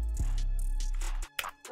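A vocal in FL Studio smeared by a fully wet reverb: a sustained, blurred wash of tone for about a second, then breaking into short, echoing fragments.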